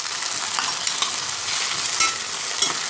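Tomato drops into onions fried to a pink color in a pan for veg paneer biryani, raising a bright, crackling sizzle with stirring scrapes, close and steady, no voices.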